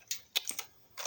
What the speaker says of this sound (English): We got to type in CD /